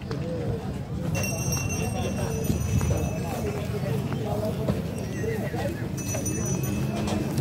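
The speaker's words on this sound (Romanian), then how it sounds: "foarte mulți cai." Horses at a country livestock fair in Sighetu Marmației clip-clop and whinny amid a busy crowd, with birds cooing and people talking throughout.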